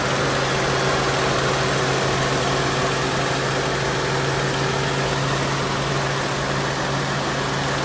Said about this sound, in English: Pretty smooth running engine